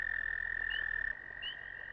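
Toads at floodplain ponds give a steady high-pitched trill that holds loud and unbroken for about a second, then continues fainter with a short chirp layered on top, with no voices present.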